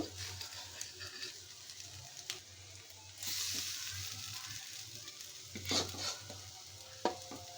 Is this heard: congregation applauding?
no